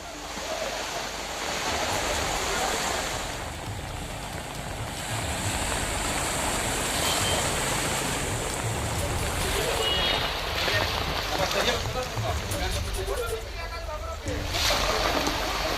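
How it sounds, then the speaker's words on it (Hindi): Floodwater churns through city streets during monsoon rain in Delhi, a continuous rushing and sloshing of water with a voice heard over it at times. "सड़कों पर 2 से 3 फीट तक पानी है। वाहनों को आने जाने में दिक्कत हो रही है।"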